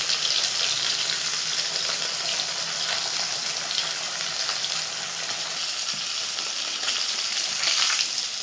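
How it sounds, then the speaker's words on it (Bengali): Fish curry with potatoes frying in a pan on a home stove, a steady loud sizzle and hiss of hot oil continuing throughout without pause. "এটা মাছের তরকারিটা করে নিই আলু দিয়ে।"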